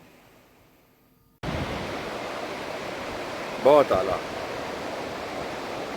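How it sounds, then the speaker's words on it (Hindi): Loud, steady rush of a river in Neelam Valley, Kashmir, starts abruptly and continues as a constant roar, with a brief voice speaking over it midway. "पानी का शोर आप सुन सकते हैं।"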